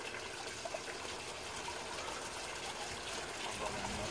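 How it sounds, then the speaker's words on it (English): Water trickles steadily down the overflow pipes of a garden fish pond, a constant close hiss of running water with no breaks. "Oh, I see some water coming. Trickle, trickle."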